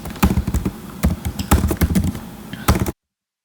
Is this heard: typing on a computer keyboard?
yes